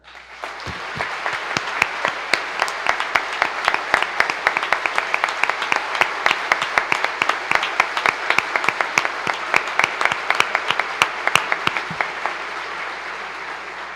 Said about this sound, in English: Please join me in applauding our Canadian neighbors for financing this project and remaining a steadfast partner.